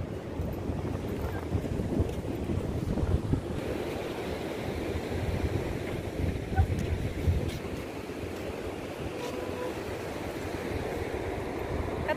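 Rough sea surf rolls onto a beach at Dingalan Bay just after a storm, a steady low roar of breaking waves mixed with wind buffeting the microphone and no clear voices.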